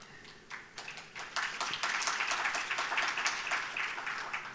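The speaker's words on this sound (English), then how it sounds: "round of applause to Afra al-Zahri" Audience applause at a conference event honouring an animal-welfare innovator, starting as scattered claps that swell into steady, moderately distant clapping from a sizable crowd.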